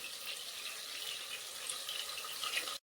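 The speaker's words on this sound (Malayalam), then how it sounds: "കുറച്ച് വെള്ളം ഒഴിക്കുന്നുണ്ട് കേട്ടോ" Water pours steadily into a pot of biryani rice, a close, even rushing splash that runs alone for a few seconds, then cuts off abruptly.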